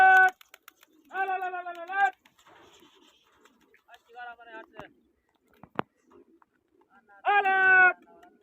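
Pigeons coo in several short, near bursts of rounded, repeated calls separated by gaps, with faint rustles and a sharp snap between them, during a pigeon flying contest outdoors; someone speaks quietly in the background.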